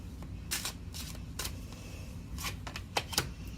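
Soft, papery riffling of tarot cards being shuffled in short bursts over a low background hum, with a couple of light taps near the end.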